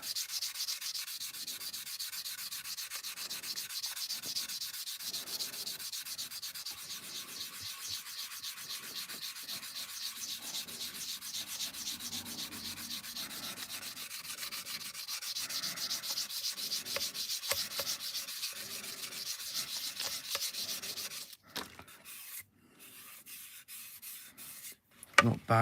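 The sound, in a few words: sanding stick on Airfix Concorde model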